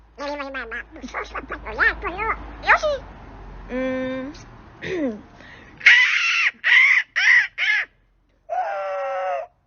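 A person imitates Donald Duck's voice with squawky, quacking vocal bursts, first a run of varied syllables, then several loud separate honks with brief pauses between.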